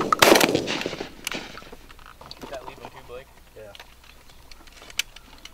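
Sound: shotgun shots at pigeons during a hunting contest

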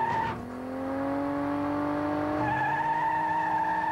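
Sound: Indy car racing in a G-force simulator ride

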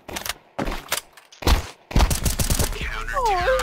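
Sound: gunfire in the video game CS2

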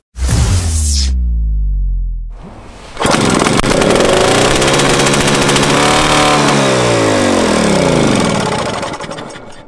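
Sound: old tractor engine being started

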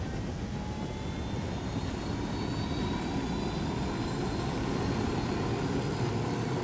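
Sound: helicopter in video game Ghost Recon Wildlands

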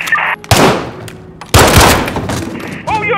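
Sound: gunfire in Call of Duty Modern Warfare video game

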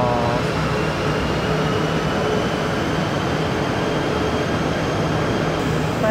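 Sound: train at an old station in Kuala Lumpur

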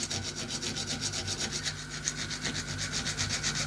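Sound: needle files cleaning out a rounded corner

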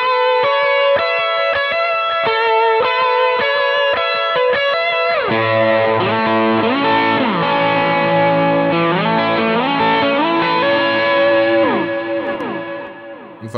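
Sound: electric guitar with accented delay

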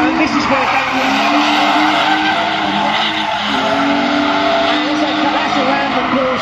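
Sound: Sierra drift car skidding through a turn

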